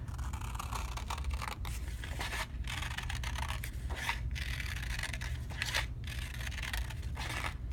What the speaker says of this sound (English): Cutting this out on the line as best as I can.